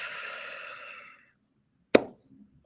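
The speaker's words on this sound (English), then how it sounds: "Take a deep breath and exhale out of your mouth." A single deep breath is exhaled out through the mouth close to the microphone, a soft airy sigh lasting about a second that fades out, followed by a sharp click.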